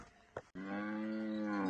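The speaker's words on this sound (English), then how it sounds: "they are the cattle there" Cattle on a rural farm in Buhera, Zimbabwe, being moved to a dip: a short low call, then one long sustained moo, close and loud.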